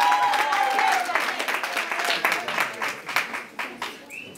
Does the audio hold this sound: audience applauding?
yes